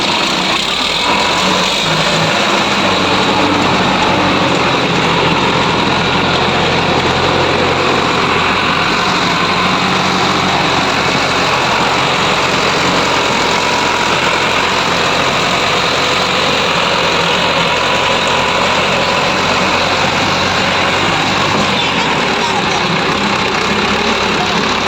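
A Sonalika RX60 tractor, worn after about 4,500 hours of running, rumbles steadily in a low idle-like drone that holds throughout, with voices talking over it.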